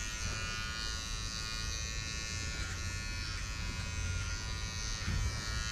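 Electric clippers shave a wether high on the body where a castration band will go, a steady close buzz running unbroken throughout with no talking.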